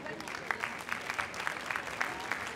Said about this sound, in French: Puis-je vous demander un petit peu plus d'applaudissements, s'il vous plaît, mesdames, messieurs